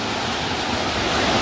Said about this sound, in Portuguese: Galera, chegamos na cachoeira.